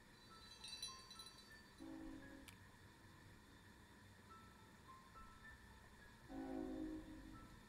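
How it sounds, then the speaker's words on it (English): A video-game train passes in the distance, sounding two faint horn blasts several seconds apart over a low rumbling background. "Here comes the train."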